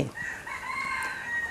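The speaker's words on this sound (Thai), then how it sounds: "ก็เรียกว่าเสียงไก่ขัน" A rooster crows once in a long, sustained call, moderately faint and somewhat distant, alone without any voices.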